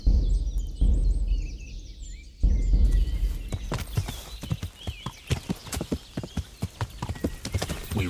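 Horse hooves in the video game Kingdom Come: Deliverance clop in a steady, quickening rhythm, close and loud, with a brief whinny near the start and faint ambient noise behind.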